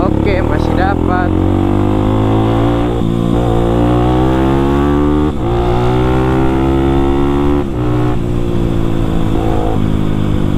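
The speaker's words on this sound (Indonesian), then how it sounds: "Ini suara knalpotnya enak aja." Kawasaki KLX 250 supermoto exhaust while riding in traffic, a loud close engine note rising and falling through repeated throttle revs and gear changes, with brief dips between pulls.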